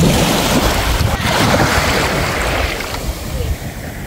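A boat underway on the open sea near San Victor Island, Baganga, Davao Oriental, with a steady loud rush of water and wind buffeting the microphone throughout, easing slightly toward the end.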